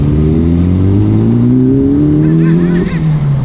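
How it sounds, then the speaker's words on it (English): Loud turbocharged kit car engine revving up through second gear, its pitch climbing steadily, with a faint high turbo whine rising near the end. "This is second gear. Listen for the turbo."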